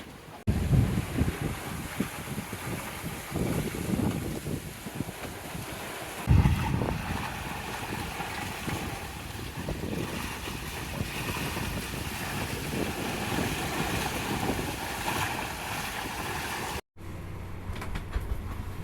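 Sailboat running downwind offshore under main and genoa at about six knots, with steady rushing wind and waves washing along the hull, close and continuous, and a brief dropout near the end.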